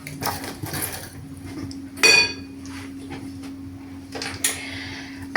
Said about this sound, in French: on va prendre un fouet